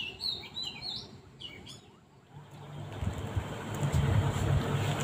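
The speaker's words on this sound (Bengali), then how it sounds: "পাখির কিচিমিচির আওয়াজে এত ভালো লাগছিল," Birds chirp at dawn, with several bright, quick calls close by during the first two seconds. A steady broadband rush then swells and masks the birds.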